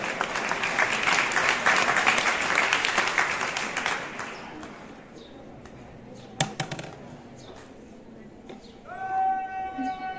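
Crowd at a Border Security Force parade ceremony on the India–Pakistan border at Nadabet, Gujarat, claps loudly for several seconds before the applause fades, leaving sparse sounds and a few distant tones.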